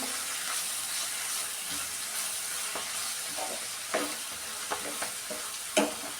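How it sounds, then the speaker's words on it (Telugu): Ginger paste stirred into softened vegetables frying in a pan, a gentle constant sizzle with scattered spoon scrapes and a few sharper clinks toward the end, close by and without speech. "అవి కొంచెం మగ్గిన తర్వాత అల్లం పేస్ట్ వేసి కలుపుకోవాలి"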